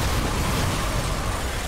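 A car in the Watch Dogs video game explodes after being shot, giving a dense, roaring burst of broadband noise that stays loud and steady for the whole short stretch.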